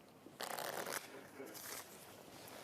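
Playing cards shuffled by hand during a close-up magic performance: one dense riffling burst of about half a second, then a shorter, softer burst, both near and clear, with no talk over them.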